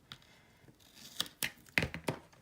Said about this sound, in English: Here's my scissors.